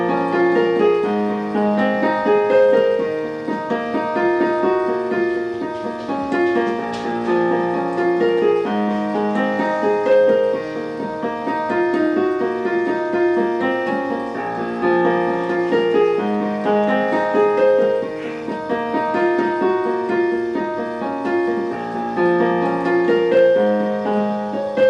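Solo piano playing the opening of a song, a steady flowing melody over repeated chords at even loudness throughout, close and clear with no voices.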